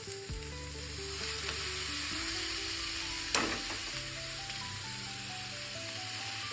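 Tangra fish and potato sizzle steadily in hot oil in a pan as onion stalks are tossed in, a continuous frying hiss with a brief stirring clatter partway through and no talk.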